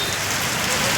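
Steady rain falls outside, a continuous even hiss of drops spread across the whole moment with no breaks or distinct individual hits.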